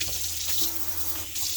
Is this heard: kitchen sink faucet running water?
yes